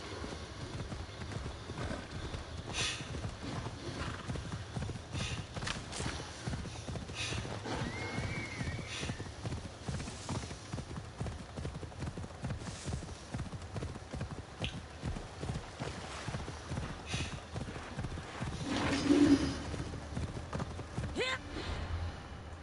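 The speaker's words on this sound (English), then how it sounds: "I have my trusty, dusty horse." Steady clip-clop of horse hooves trotting at a constant pace in the video game Assassin's Creed Odyssey, with a short neigh near the end, over a faint background hum.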